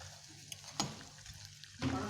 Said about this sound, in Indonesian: iki masukkan gorengan yang kedua